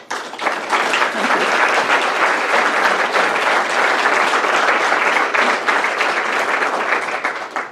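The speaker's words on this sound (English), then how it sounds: "Sarah, did you start that applause?" Sustained applause from an audience at a U.S. Senate event honouring staff, a dense steady wash of many hands clapping that swells in and fades near the end.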